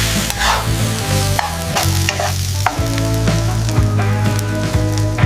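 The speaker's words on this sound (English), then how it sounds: "Finally, you mix everything well." Food being mixed in a hot pan, loud continuous sizzling with repeated scraping and clattering stirs of a utensil against the pan, close and alone with no voices.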